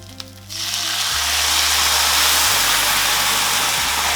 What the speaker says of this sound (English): So heat can go up and we want to deglaze with red wine.